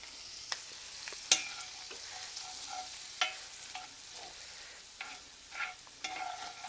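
Brussels sprouts and onions sautéing over medium-low heat in a pan with a little water, stirred so scattered scrapes and clatters sound over a faint steady sizzle, close and fairly quiet.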